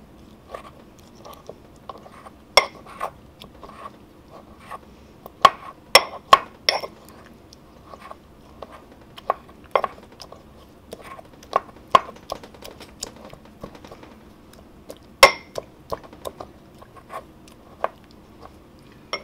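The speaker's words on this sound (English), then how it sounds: "what I want to make is kind of like a paste. With all of these ingredients crushed together" Garlic, chili and other ingredients crushed into a paste for a cabbage stir fry, with sharp, irregular pounding and crunching taps, some close and loud, against a quiet background.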